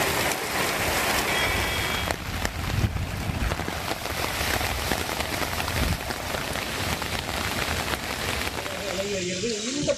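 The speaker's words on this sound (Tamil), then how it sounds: "1 மணி நேரத்திற்கும் மேலாக பெய்த மழையால் குளிர்ச்சியான சூழல்" Heavy rain pours down over a town in Tamil Nadu, a dense, continuous hiss of drops hitting surfaces with occasional sharper patters and low rumbling underneath.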